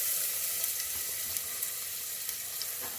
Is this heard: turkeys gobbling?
no